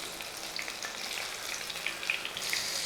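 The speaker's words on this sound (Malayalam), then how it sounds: "ഇതേപോലെ തന്നെ മുക്കി പൊരിച്ചെടുക്കാം" Pazham pori (banana fritters) deep frying in hot oil gives a steady, close sizzle with scattered sharp crackles and pops throughout, and no talking.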